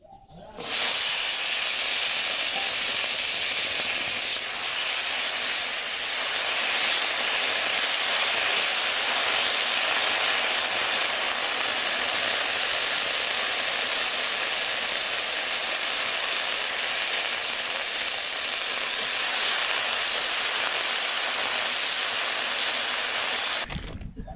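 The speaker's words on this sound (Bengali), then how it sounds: "মটরশুঁটি ভেজে নিই" Green peas frying in oil in a pan in a rural Indian village kitchen, giving a steady, loud sizzling hiss that runs unbroken for the whole stretch, with no talk over it.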